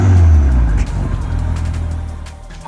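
BMW F80 M3 with its S55 engine and 2-into-1 downpipes, a loud, low, rough exhaust note that drones steadily before a short sharp burst at the end.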